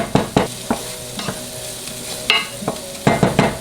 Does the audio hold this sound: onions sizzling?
yes